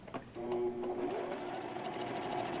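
A sewing machine stitches fleece fabric along a traced line for a stuffed toy, running in a steady, close mechanical whir with rapid needle ticking throughout.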